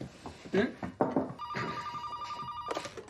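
A telephone rings in a tense gangster action film scene, with a steady electronic ring tone starting midway and continuing under close, loud speech and scuffling sounds.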